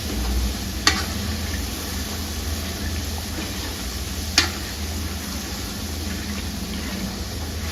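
Garlic stirred steadily in very hot oil over a high flame while making Schezwan chutney, giving a continuous broad sizzle with two sharp scrapes or clinks of the spoon against the pan, no voices.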